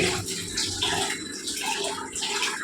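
Soaked rice being washed by hand in water for idli batter, a steady sloshing, splashing wash close by with no voices.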